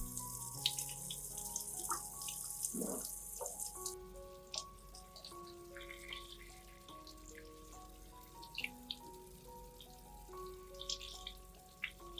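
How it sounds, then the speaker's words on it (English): Water runs steadily from a tap, with splashing and soft dripping as aloe vera is rinsed beneath it; quiet and close, no voices. "Then wash the aloe vera under running water."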